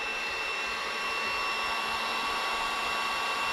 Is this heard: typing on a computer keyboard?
no